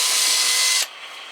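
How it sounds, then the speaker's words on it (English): A power drill running at full speed while drilling holes during a panel installation, one loud, steady whine lasting under a second before it cuts off to quiet room noise. "we're done drilling the holes"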